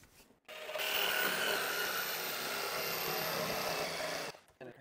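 Oscillating multi-tool cutting through wood, a steady dense buzzing rasp held for about three and a half seconds at close range, starting and stopping abruptly with no talk.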